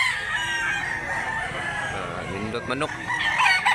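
A year-old rooster in Mantalungon, Barili, Cebu crows with a strained, warbling call over farmyard background noise, while someone speaks nearby.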